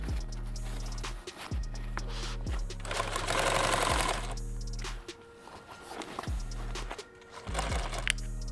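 A sewing machine stitches a seam on a helmet bag in short bursts of rapid mechanical chatter, stopping and restarting several times with brief pauses between runs, close and fairly loud.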